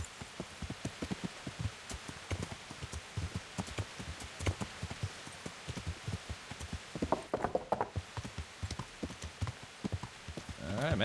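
Horse hooves clip-clopping in the medieval video game Kingdom Come: Deliverance, a steady run of hoof strikes mixed with a rain-like patter, moderately quiet and continuous throughout.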